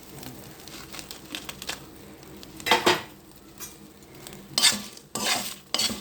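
Dried red chillies and rock salt roast in a pan, with a few sharp bursts of scraping, rattling stirs against the metal over a faint background crackle, up close and alone.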